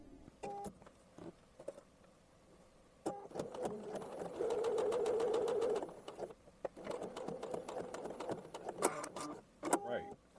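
A sewing machine edge-finishes the unnotched edge of a fabric facing in several bursts of rapid stitching, with pigeons cooing in the background between runs.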